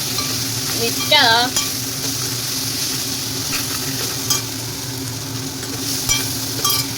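Chicken pieces dropped into a hot pan for a sour tenga curry give a steady, close frying sizzle with brief stirring scrapes, and a single word is spoken over it.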